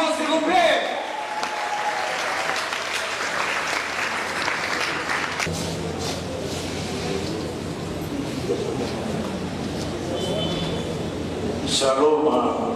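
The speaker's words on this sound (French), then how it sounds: "est-ce qu'on peut pousser des cris de joie, s'il vous plaît?" A church hall audience at a parish choir's 50th-anniversary concert erupts in loud, sustained cheering and clapping that later thins into a softer crowd murmur.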